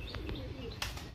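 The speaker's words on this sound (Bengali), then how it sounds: "এরা কত সুন্দরভাবে গোসল করছে পায়রাগুলো," Pigeons bathing in a rooftop loft give soft brief chirps and coos with a quick flutter of wings, faint and fairly close over a low background rumble.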